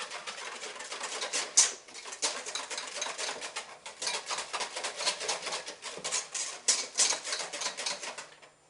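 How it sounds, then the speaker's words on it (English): Whisk rapidly clattering as milk is beaten into room-temperature yogurt in a bowl, a quick, uneven stream of close ticking strokes continuing throughout with brief pauses, no one speaking. "Whisk that in."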